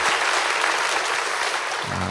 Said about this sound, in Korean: 우리 하나님께 큰 박수로 영광을 드리겠습니다